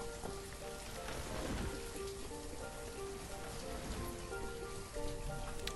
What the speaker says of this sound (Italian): Piove sempre.